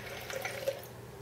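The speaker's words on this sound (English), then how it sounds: "take 1 cup of milk and pour it in your bowl" A cup of milk pours into a bowl, a brief faint trickle with a small splash partway through.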